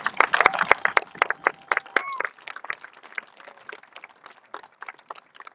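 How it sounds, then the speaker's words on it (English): Scattered applause at a junior graduation ceremony, sharp claps thinning out from a brisk burst into sparse, tapering hand claps with no talk. "Let's give them one more round of applause for these comments"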